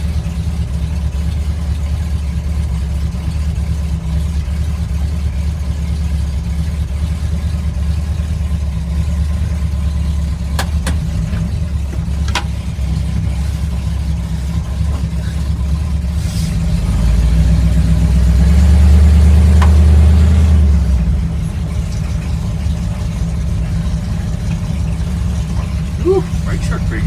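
A 1958 Ford F100 pickup's engine rumbles low and steady while driving, swelling into a louder, deeper surge of acceleration partway through before settling back, with faint rattles and occasional talk.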